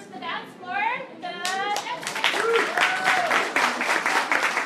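Audience clapping and cheering to welcome young dancers onto the dance floor at a children's dance show, with lively crowd noise, excited children's voices and rising applause filling the room.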